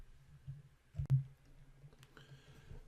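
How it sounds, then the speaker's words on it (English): A single sharp computer mouse click on a website menu item, one quick faint tick in an otherwise quiet room. "click into this menu item here"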